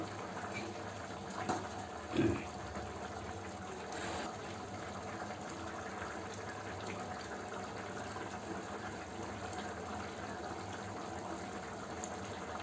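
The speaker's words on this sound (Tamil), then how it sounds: "நல்லாவே குழம்பு ஃபுல்லாக கொதிக்கணும்" Steady low bubbling of a simmering pot of curry, continuous and fairly quiet, with a brief clunk near the start.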